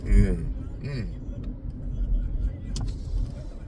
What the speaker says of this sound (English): So this is LA traffic.